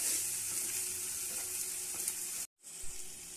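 Tomato and chili powder masala frying in oil for a Gandharaj lemon hilsa curry sizzles steadily and crackles up close, cut by a brief moment of silence before the sizzling resumes.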